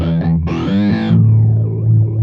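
A Line 6 M9 jet fuzz effect turns a guitar into a sweeping, fizzy tone, a few short chords followed by a rising jet-like swoosh and then a held, distorted note that rings out.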